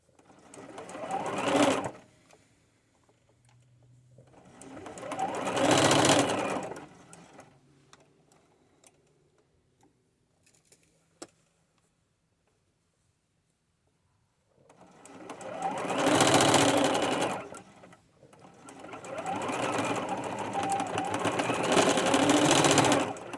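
A home sewing machine stitches skirt seams on an upcycled boho fairy skirt in three short bursts separated by quiet pauses, with a longer steady run at the end and a few faint clicks between.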